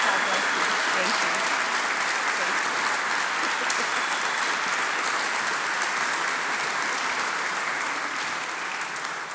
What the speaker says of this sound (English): won't you join me in a rousing round of applause of gratitude and thanks